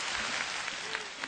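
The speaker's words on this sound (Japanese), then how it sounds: "拍手。" Dense, continuous audience applause at a stage show, a loud wash of clapping filling the short moment with no talk over it.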